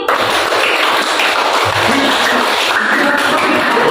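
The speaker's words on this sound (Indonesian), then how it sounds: "Tepuk 5 2 kali." Pupils in a classroom clap a rhythmic five-count pattern twice through during a school lesson. The group clapping is loud and close, continuous and slightly uneven, with no talk over it.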